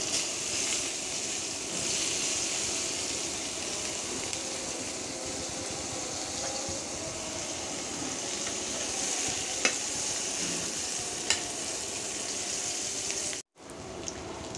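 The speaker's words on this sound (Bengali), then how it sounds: "এই তেলে আমি পেঁয়াজ ভেজে নেব।" Onions frying in oil in a pan for fish curry, a steady, dense sizzle that holds throughout with a couple of faint clinks, then a brief drop out near the end.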